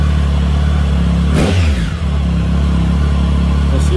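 A Triumph Tiger 1050 motorcycle engine idles steadily, then its throttle is blipped once for a short, sharp rev that climbs and falls back to idle. The engine is close by and loud, with no talking.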